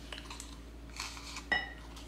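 Brown sugar crumb topping for a Maine wild blueberry pie being stirred in a bowl, with faint scattered clinks and scrapes of a utensil against the bowl, quiet and intermittent.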